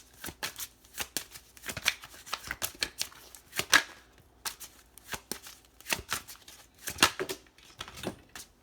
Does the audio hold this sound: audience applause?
no